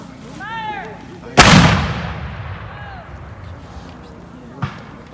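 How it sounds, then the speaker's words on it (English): A cannon fires once at a battle reenactment, a loud close boom with a long rumbling decay. A sharper distant report follows, and voices murmur before and after. "this artillery is firing at the dawn of the morning"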